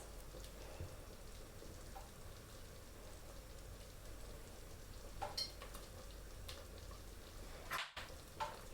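Dhokli dough pieces drop into simmering dal and are stirred, a faint steady bubbling, pattering simmer with a few soft splashes and spoon scrapes near the end.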